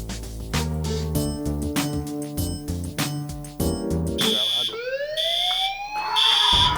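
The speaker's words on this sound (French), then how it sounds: "C'est l'alarme incendie." A fire alarm in a busy restaurant kitchen sounds from about four seconds in as repeated high electronic beeps with rising sweeps, loud and near, after a stretch of loud music and crowd noise.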